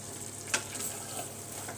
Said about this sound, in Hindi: अब मैं इसको भुनाई कर लूँगी तरीके से।